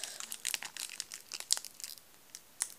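Thin plastic foil of a Pokémon card booster pack tearing and crinkling as it is opened, a close, irregular series of short crisp rips and crackles with no talking.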